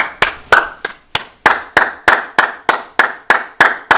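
Loud, evenly spaced claps in a steady rhythm of roughly three per second at a Raiders versus 49ers football game, each clap sharp and close, with brief gaps of quiet between them.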